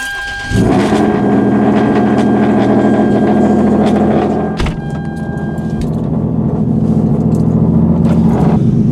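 A Hyundai Genesis Coupe 3.8 with a custom cold air intake starts up and drives, its engine droning loud and close with a steady rumble that dips briefly midway, then builds again.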